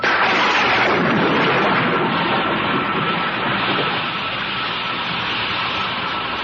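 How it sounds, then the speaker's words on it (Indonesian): Thunder rumbles in a long, loud, broad roar that slowly fades while rain starts to fall, with no voices. "Kenapa tiba-tiba ada suara petir?"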